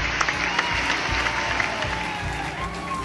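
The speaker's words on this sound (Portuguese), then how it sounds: "todo mundo aplaudiu de pé" A standing ovation fills a hall at a school mathematics olympiad medal ceremony, steady dense clapping from a large crowd with a few sharper claps standing out.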